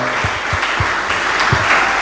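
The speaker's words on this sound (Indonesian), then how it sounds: "Tepuk tangan buat kita semua." Audience applause at a Ramadan religious gathering, a steady wash of many hands clapping with a few louder individual claps standing out, continuous and fairly close throughout.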